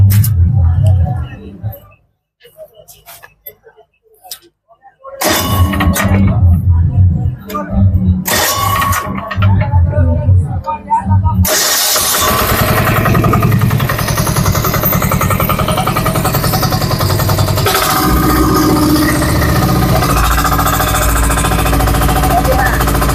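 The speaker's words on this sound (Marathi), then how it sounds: "मी मशीन चालू करतो" An agricultural machine with a defogger system shown at the Baramati agricultural exhibition starts after bursts of speech, then its engine runs loud and steady at a rough idle, close by, drowning out the surroundings.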